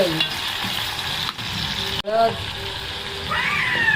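Onions and tomatoes sizzle and crackle in a hot pan for sprouted mixed-legume misal, a steady close frying hiss with bursts of stirring and a faint voice in places.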